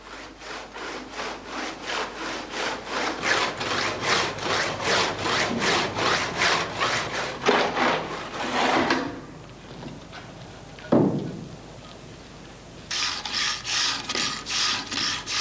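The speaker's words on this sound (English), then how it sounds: "The sawing and finishing work of the blocks, which have to be built up round the window frames" Rhythmic hand sawing through a gypsum building block, steady back-and-forth strokes close up, pausing briefly with a scrape before the sawing resumes.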